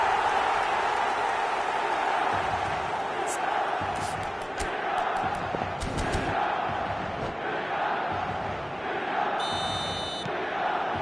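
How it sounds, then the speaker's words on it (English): A football stadium crowd roars after a Milan goal, a dense, loud, sustained wall of cheering and chanting with sharp whistles and horn-like blasts cutting through. "the crowd level has gone up a notch or 10"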